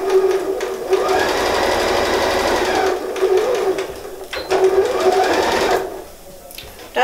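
A sewing machine topstitches the upper edge of a fabric book cover, running in steady loud bursts with brief pauses around three and four seconds before trailing off near the end.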